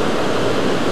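Dense, roaring rush of water falling at a waterfall in Etive Mor, Scotland, close and loud, a steady unbroken wash with no voices.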